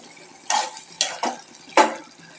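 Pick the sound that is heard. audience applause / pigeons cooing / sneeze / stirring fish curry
stirring fish curry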